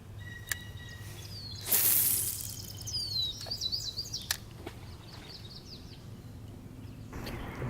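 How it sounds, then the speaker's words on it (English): A bird in a tree beside the water at Long Sault screeches over quiet outdoor ambience, with a few sharp chirps and then a louder burst of rasping calls midway, heard from a kayak. "The bird in the tree making a screech."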